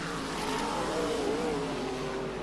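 Sprint cars racing around a dirt oval during a 1995 classic B main event, a continuous loud engine roar with pitch sweeping up and down as the cars power through the corners.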